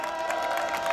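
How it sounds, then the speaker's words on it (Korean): Audience at a Democratic Party political rally in Korea claps and cheers as a lawmaker is urged to run for office, a dense steady wash of crowd applause with scattered shouts throughout. "출마하라고 박수 한번 치세요."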